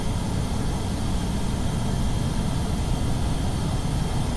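A small aircraft's engine running at full throttle down a runway in Kerbal Space Program, a steady, loud broadband roar that holds constant throughout with no voices.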